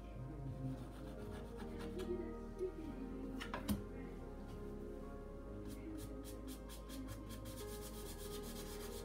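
Oil paint is scraped onto canvas to form sticks and twigs in a landscape painting, giving quiet, dry rubbing and scratching strokes that come in short, faint, repeated passes close by.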